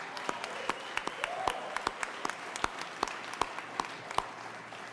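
Scattered applause from a small crowd at a U.S. Senate primary victory speech, Ron being cheered; sparse, uneven claps spread steadily across the moment at moderate distance over a low room murmur.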